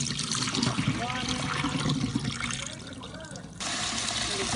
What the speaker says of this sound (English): Just put fresh water into this.